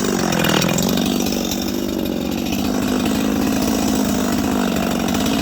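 A Holzfforma G255 chainsaw cuts through maple, its engine roaring loudly and steadily at high revs for the whole stretch with no talking.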